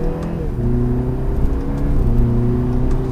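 Engine of a 2019 BMW 330i M Sport in comfort mode revving after a downshift, a steady loud droning hum with layered engine harmonics that dip and climb slightly as gears change, heard from inside the car without talk.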